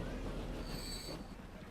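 Train in the Transport Fever video game, a steady low rumble of rolling wheels with a faint high squeal, heard alone in a short continuous stretch.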